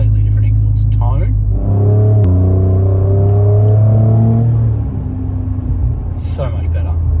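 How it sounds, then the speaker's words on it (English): A Ford Raptor with a twin-turbo V6 and its exhaust valves open in Baja mode idles and revs up close, rising to a deep sustained drone for a few seconds before settling back, with someone talking over the start and end. "Exhaust is open. Okay, straight away, completely different exhaust tone."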